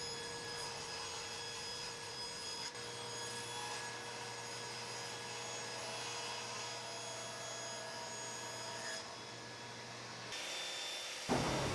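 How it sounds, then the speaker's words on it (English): Table saw ripping a board to final width against the fence, a steady loud whine of the spinning blade with a low drone of the cut running through most of the clip, then a brief change as the blade winds down near the end. "Once one edge is jointed, I'll move over to the table saw."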